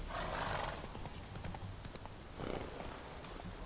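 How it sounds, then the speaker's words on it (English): Muffled hoofbeats clop along with a horse's snorting whinny, set against a busy video game soundscape near Crookback Bog. "Has Roach not heard the saying about leading a horse to water?"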